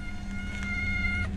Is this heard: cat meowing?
yes